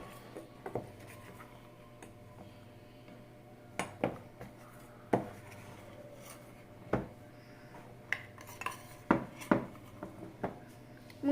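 Rice flour spooned into a bowl for a homemade face pack: sparse, quiet clinks and taps of a spoon against the bowl, spaced irregularly over a faint background hum.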